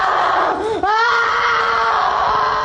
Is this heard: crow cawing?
no